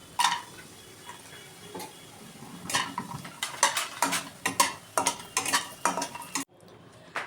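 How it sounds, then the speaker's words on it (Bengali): Lentil dumplings (bori) fry in hot oil while being stirred, with a soft sizzle under repeated scraping and clinking strokes that grow busier before stopping abruptly near the end. "একটু বড়িগুলোকে ভেজে নেব"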